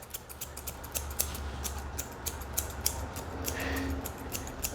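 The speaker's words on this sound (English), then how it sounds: "Notice I go back and forth with my scissors." Grooming scissors snip through a small dog's fur in rapid, repeated back-and-forth cuts, a steady train of crisp metallic clicks close up over a soft background hiss.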